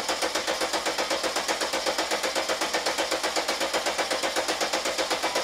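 A car engine idles steadily with a fast, even tappety ticking throughout, close and fairly loud with no voices.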